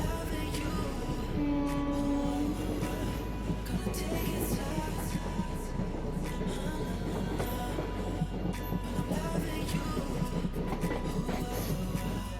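Steady low rumble and rattle inside a moving passenger train on the Trivandrum to Palani route, constant throughout with faint clicks and no talking.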